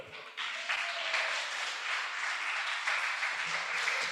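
Applause fills a church hall, beginning with a sudden swell of clapping that holds steady and dense across the congregation. It stays fairly loud throughout and carries no talking.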